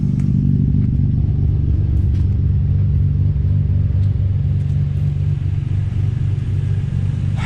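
The Nissan Skyline R32 (Project RBZ32) car engine idles steadily and loudly, a continuous deep rumble with a slightly rough, clattery edge throughout, no voices over it.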